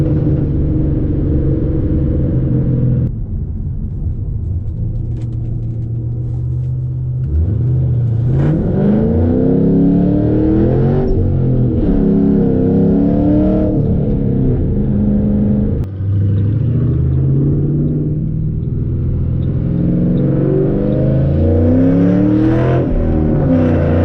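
Loud Ford Mustang engine revving up through several gear shifts, rising pitch sweeps broken by brief dips at each shift, with a deep exhaust rumble running continuously close to the microphone.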